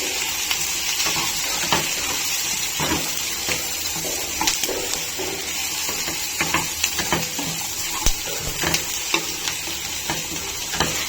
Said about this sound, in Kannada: ಇದು ಎಲ್ಲ ಹಾಕಿ ಒಂದು ಸ್ವಲ್ಪ ಫ್ರೈ ಮಾಡ್ಕೊಳ್ಳಿ